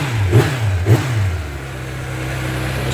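A Kawasaki motorcycle engine at a motor show, either a Ninja 400 or a Z900RS, revs sharply twice in quick succession. It then settles into a steady, rumbling idle, close and fairly loud.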